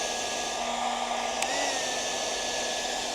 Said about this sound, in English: the hairdryer itself knocked it down to half power